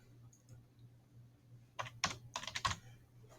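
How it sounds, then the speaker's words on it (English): A question is typed on a computer keyboard: a short run of quick, close key clicks after a quiet start, faint and alone with no talking. "Type in here your question, right?"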